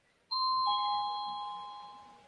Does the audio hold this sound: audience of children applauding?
no